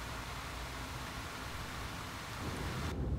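Thunderstorm rain in the video game No Man's Sky pours as a dense, steady hiss with a low rumbling undertone, constant and fairly loud, with no voices.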